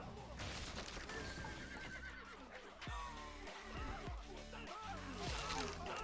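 Horses whinny and neigh repeatedly in a real-time strategy battle, several calls rising over a busy mix of hooves and clashing combat noise, fairly loud and close with no clear talk.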